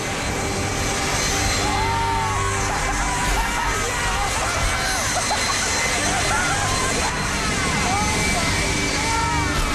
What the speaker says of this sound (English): The second that taxi hit the jet blast, the hood just ripped off.